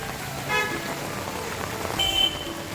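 Heavy rain that has fallen all night pours down on a Junagadh street while water runs through it, making a steady broadband hiss, with a couple of short car-horn toots near the end.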